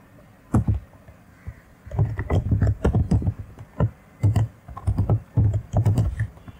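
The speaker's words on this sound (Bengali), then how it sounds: "তো আমি এখানে জাস্ট একটা কোড লিখি, প্রিন্ট হ্যালো" Keys clatter on a computer keyboard while a short line of code is typed into a Linux terminal, with bursts of rapid clicks separated by brief pauses, close and fairly loud, and no talking.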